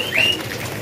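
Small birds, zebra finches, give a brief high chirp at a bird market kiosk, close and fairly clear over a low background murmur.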